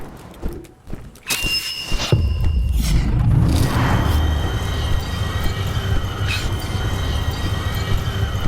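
In the video game Voidtrain, a few sharp clanks lead into a train's heavy, continuous rumble along the rails, loud and close, with faint squealing overtones.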